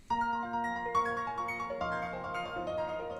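A melodic sample in A sharp minor runs through an Eventide Octavox pitch harmony plugin, stacking extra scale notes into a bright, layered chord pattern that shifts every half second or so, quiet and alone.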